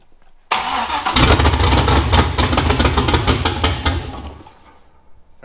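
A four-wheel crawler's engine is cranked by the starter, a loud rapid chugging that runs for about three seconds, then winds down and stops without catching.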